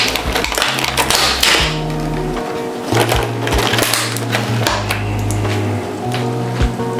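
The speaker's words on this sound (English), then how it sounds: "Mix this egg and make it an omelet." A fork beats a single egg in a bowl, making rapid, steady clinking taps close up over a low background hum, with no talking.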